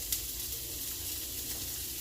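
Vegetables sautéing over medium heat, with a quiet, continuous sizzle and no voices.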